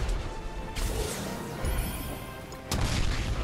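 Explosions in the mobile game Marvel Strike Force burst out as sharp crashes, two heavy hits with rumbling tails over a continuous game soundscape.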